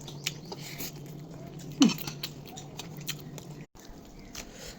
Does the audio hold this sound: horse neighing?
no